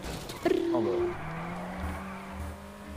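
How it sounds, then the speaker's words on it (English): A car drifts in GTA 5, its tires squealing in a sharp, rising whine over a roaring engine, loud and close, with players talking over it. "Oh, this car drifts."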